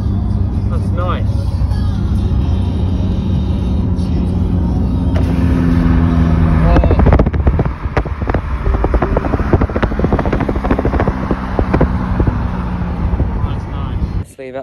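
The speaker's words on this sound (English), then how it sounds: "That nice Nissan sounds really nice." A red Nissan car with a large drainpipe-style exhaust drives past near a beach, a loud steady engine roar that swells and fades, with other traffic noise and people chatting over it.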